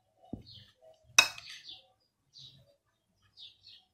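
Seasoned meat filling with garlic, vinegar and soy sauce being stirred in a bowl, heard as a few soft, scattered scrapes and clinks of a utensil, with one sharper knock and quiet gaps between them.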